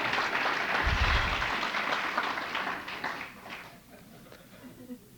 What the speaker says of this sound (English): can I have a round of applause that I made this meeting tonight?